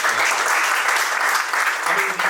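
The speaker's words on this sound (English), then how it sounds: "So big round of applause to Karan." An indoor audience at a talk event gives steady, dense applause, close and sustained throughout.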